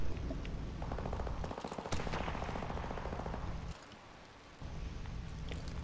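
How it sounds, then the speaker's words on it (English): Call of Duty gunfire rattles in rapid bursts, loud close-range automatic shots with a brief break before the firing resumes at lower intensity. "There's someone shooting there too."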